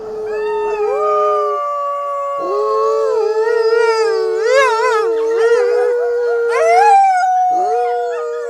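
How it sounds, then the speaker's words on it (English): Several wolves howl together, long wavering cries rising and falling and overlapping, close and loud with no other sounds. "The wolf cries."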